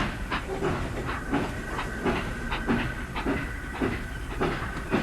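A steam train pulls away along the rails with a steady hiss of steam and a repeating clickety-clack of wheels over rail joints, heard close and continuous without any talk.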